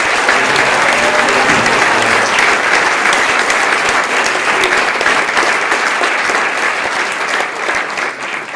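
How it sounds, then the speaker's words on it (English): Loud, sustained applause from a boxing audience for Natasha Jonas, a continuous wash of clapping that holds for several seconds before easing slightly at the end. "So I think a big round of applause firstly for Natasha Jonas."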